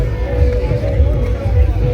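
Dense crowd hubbub at the Surajkund fair, a large outdoor cultural fair in India, with many overlapping voices forming a steady, loud babble and no single speaker standing out.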